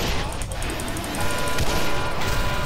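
Rapid gunfire blasts at a hover tank in the game Quake 4, a dense continuous volley of loud shots and crashing impacts with no pause.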